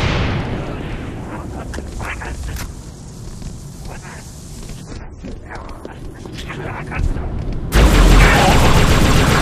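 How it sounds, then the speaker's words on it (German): Halo Reach Firefight combat: a steady run of rapid gunfire with repeated blasts, a grenade explosion among them, a sharp loud burst near the end, and game voice chatter underneath. "Granate ist raus."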